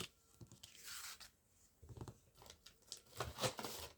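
Scissors snip through a strip of tape up close, giving a few quiet, crisp cuts and papery tearing rustles with short pauses between them.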